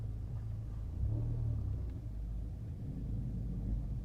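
A Chevrolet Equinox engine rumbles low and steady while the vehicle slowly reverses out of a shop, the drone swelling slightly partway through, with no voices.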